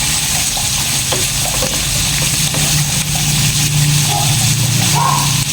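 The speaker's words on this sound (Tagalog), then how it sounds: "Gigisa ko anay." Ingredients for pork sinigang sizzle and fry in a pan, a steady crackling sauté with occasional stirring scrapes, close and fairly loud throughout.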